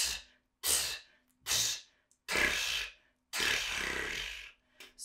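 Flutter-tongue breath technique, with the tongue tip wagging between the teeth in the air stream, gives five bursts of rough, fluttering breathy air separated by short silences, close and alone.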